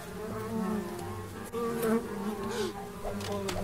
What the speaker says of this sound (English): Those are bees.